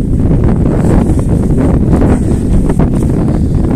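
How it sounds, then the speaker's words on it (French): Strong outdoor wind buffets the microphone with a loud, constant roar and rumble throughout, with no voice heard. "il y a beaucoup de vent, hein, donc je vais m'arrêter là parce que c'est inaudible"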